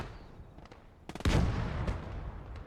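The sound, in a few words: tank gun shot in Gates of Hell video game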